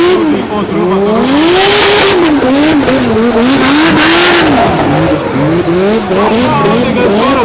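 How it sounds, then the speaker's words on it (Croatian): Mercedes 6.2 AMG race car drifting at a Croatian cup event, engine roaring and revving with continuous tire squeal, loud and close, while a commentator talks over it throughout. "Marko tuče u blokadu sad sa svojim 6-2 AMG-om"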